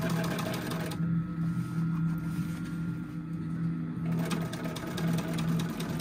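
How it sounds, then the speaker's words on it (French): A sewing machine stitches cushion covers from military fabric, running with a steady mechanical whir and rapid needle clatter, a brief pause in the middle before it resumes; moderate level, no speech. "Le gars il est en train de les coudre."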